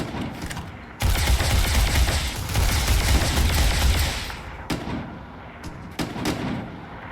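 Enemy gunfire in the game Starfield: a loud sustained burst of rapid shots erupts after a brief pause, then breaks into scattered shorter volleys, with no talk.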